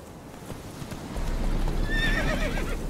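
Roach, the horse in The Witcher 3, clip-clops along at a steady gait, hooves growing louder partway through before a sharp neigh cuts in near the end.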